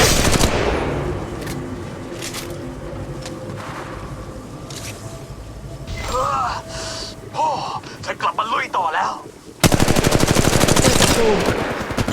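Rapid bursts of gunfire rattle through a match of Apex Legends Mobile, loud and close, with in-game voice callouts heard between the volleys and a sustained stretch of firing at the end.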